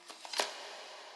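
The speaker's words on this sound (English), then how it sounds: "Just a foley hit with some reverb." A reverb-soaked foley hit in a lo-fi track, sounding like a door: a few soft, quiet knocks swelling into one muffled thud that trails off into a long, hazy reverb tail.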